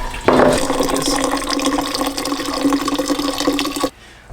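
Hot brewed tea pours into a vessel for kombucha in a steady, splashing liquid stream that runs close and loud for several seconds, then cuts off abruptly.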